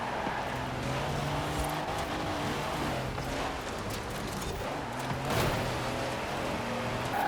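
Racing cars in Forza Horizon 4 during a competitive lap battle, engines droning loud and steady throughout with layered revving and a brief swell near the end, no talk.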